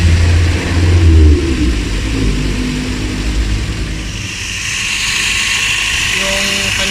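A car engine runs at a steady, raised idle of 1,500 RPM during an air-conditioning check, a continuous hum and whine with a brief louder rumble near the start.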